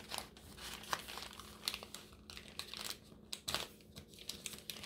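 A paper lunch bag crinkles and rustles while being folded into an envelope, soft close-up crumpling with sharp little creases and crackles coming in irregular bursts.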